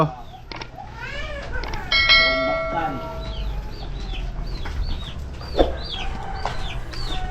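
Chickens cluck and squawk in a backyard poultry yard in Soong, Mactan, with repeated close calls and chirps layered over a low background rumble.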